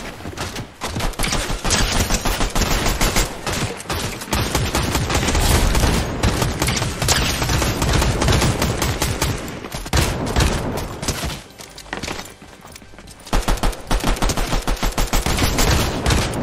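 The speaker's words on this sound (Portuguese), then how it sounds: "Caramba, errando todo tiro, mano." Sustained bursts of gunfire in a battle royale video game, dense rapid shots continuing almost without pause, loud and close, with a brief lull near the middle before firing resumes.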